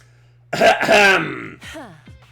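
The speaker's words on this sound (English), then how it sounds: "Our conversation was interrupted by Hiruko clearing her throat just loud enough to demand our attention." A female character clears her throat in The Hundred Line: Last Defense Academy, one loud, rough, drawn-out rasp followed by a couple of short vocal catches, close and alone over a low steady hum.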